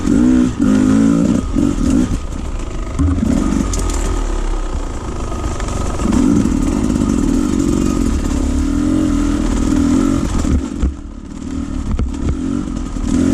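An old mini bike engine runs steadily and loudly as it is ridden, with a rough motor drone and small rises in revs throughout.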